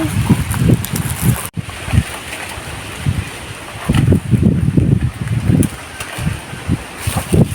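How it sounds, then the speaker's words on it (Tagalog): Strong wind buffets the microphone in loud, uneven gusts, rumbling and roaring continuously with a sharp knock early on. "Lakas ng hangin."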